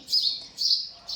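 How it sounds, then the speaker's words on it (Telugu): Sparrows chirp in short, bright bursts, three calls in quick succession, clear and moderately close against a quiet morning background. "బ్యాక్గ్రౌండ్లో పిచ్చుకలు అరుస్తున్నాయి చూసిరా"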